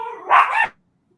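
A single dog gives one loud, close bark that rises out of a softer whine, then stops abruptly into silence.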